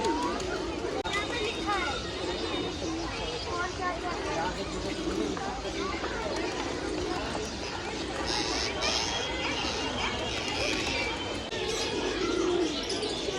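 Pigeons cooing in a small zoo at Bal Bhavan, Delhi, mixed with bird chirps and a crowd babbling in the background, while a person talks throughout.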